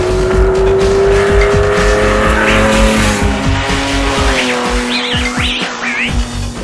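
A 1972 Ferrari Daytona Competizione GT race car, chassis 14065, roars past up close, its engine note sliding down through the gears, with short tyre chirps and squeals toward the end.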